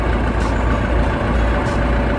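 A bulldozer's diesel engine runs steadily at close range, a loud, low, continuous rumble with a faint rhythmic knock and no talking.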